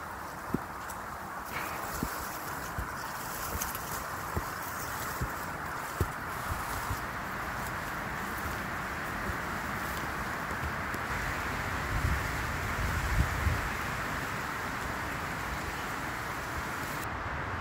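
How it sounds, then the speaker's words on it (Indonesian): Steady broadband wind roars through pine treetops on a mountain like a distant jet, with faint occasional clicks and rustles underneath. "suara angin menerpa pucuk daun"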